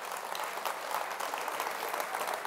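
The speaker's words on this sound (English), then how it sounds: "Let's give Piper a nice round of applause." A studio audience claps steadily and fairly loudly for a volunteer called up on stage at a puzzle show, a dense even patter of many hands with no voices over it.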